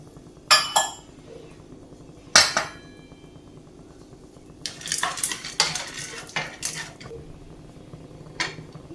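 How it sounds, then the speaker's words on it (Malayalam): Dry dates are stirred in a pan for dry fruit and seed ladoo, with scattered metallic scrapes and clinks of a utensil against the pan over a faint sizzle. "അടുത്തത് ഡ്രൈ ഡേറ്റ്സ് ഇട്ട് കൊടുക്കാം."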